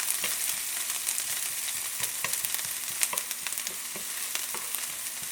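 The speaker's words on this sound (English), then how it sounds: "I'm going to go ahead and saute these for about 3 minutes" Onions sauteing in a pan for collard greens, a steady close sizzle with scattered crackles and stirring clicks throughout, no talk.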